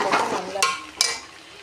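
Washed chicken pieces drop into a hot frying pan, setting off a loud, close sizzle with a couple of sharp clatters of pan and utensil, fading quickly over under two seconds.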